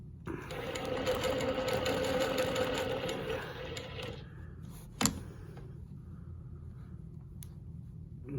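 A longarm quilting machine stitches steadily for about four seconds, a loud continuous mechanical whir, then quiets to a low hum, with a sharp click midway and faint handling noises afterward.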